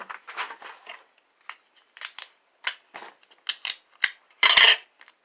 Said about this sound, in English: Now I'm just taping this in quick.